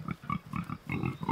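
Pastured pigs grunt in a rapid run of low, throaty oinks, close by and steady, with no voices.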